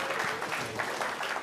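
Audience at a public lecture clapping together in a steady, moderately distant wash of applause, with no voices standing out.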